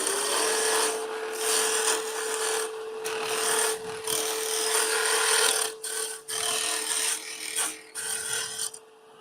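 A wooden tenon being trimmed with a turning tool on a lathe while making a small snowman: a continuous, close, hissing scrape with small shifts in pressure, broken by a few short pauses.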